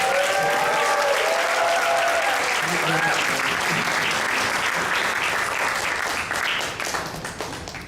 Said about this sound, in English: Everyone, let's go and give another big round of applause.